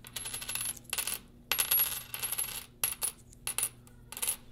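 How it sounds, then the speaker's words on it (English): Metal washers are pulled out and dropped, producing bright metallic clinks and jingles in short bursts separated by brief gaps. The sound is close and fairly loud, with no speech. "And then I'm going to pull out, I think I needed 10 washers."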